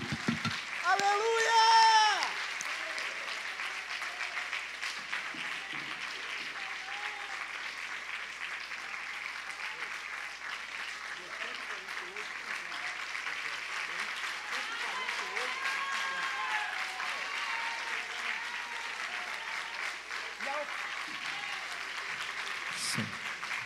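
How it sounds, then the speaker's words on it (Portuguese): A worship congregation applauds to the Lord in a dense, steady wash of clapping that lasts the whole stretch, with a voice heard briefly near the start. "Vamos começar aplaudindo ao Senhor, numa expressão de adoração."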